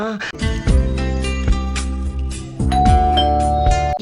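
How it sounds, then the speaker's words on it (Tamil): A loud electronic doorbell chimes a sequence of ringing tones, with a second ring starting partway through, no talking. "என்ன காலிங் பெல் சத்தம் கேக்குது?"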